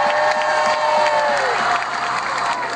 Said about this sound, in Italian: Un applauso per Luciano